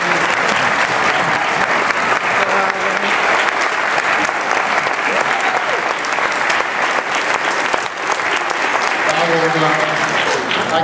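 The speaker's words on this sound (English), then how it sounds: "I want you to help me give even a bigger round of applause this time." Loud, sustained audience applause fills a band concert in San Antonio, Region 12, steady dense clapping throughout with cheering voices and shouts mixed in near the end.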